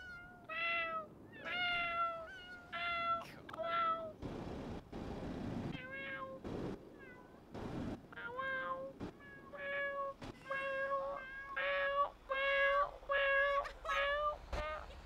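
A person imitates cat meows during GTA roleplay, a series of clear, repeated meows in bursts, some rapid and some drawn out, alone without other talk.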